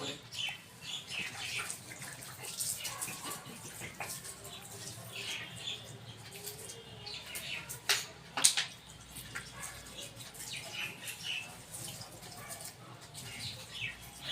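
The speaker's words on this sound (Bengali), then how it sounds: "এই যে গাছে জল দিচ্ছি" Water poured onto plants, including a betel vine, gives a soft trickling and splashing beneath faint chirping birds, with a few sharper clicks and splashes partway through.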